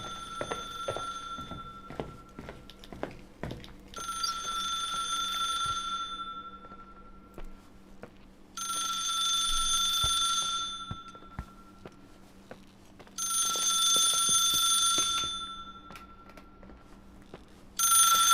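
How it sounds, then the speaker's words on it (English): An old-style telephone bell rings in the video game The Suicide of Rachel Foster, three long rings separated by pauses and a fourth starting at the end, clear and fairly loud over a faint low room hum and scattered small clicks. "I hear a phone ringing."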